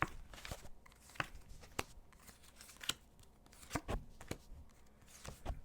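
Tarot cards from a Celestial Tarot deck being shuffled by hand, a quiet run of soft riffling flicks and taps heard close up with no voices.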